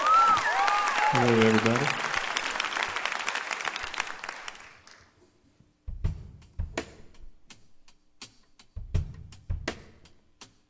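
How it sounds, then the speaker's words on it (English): Audience applause at a live concert, a dense burst of clapping and cheering that fades over several seconds, followed by a man greeting the crowd and a few scattered sounds. "So give him a big round of applause."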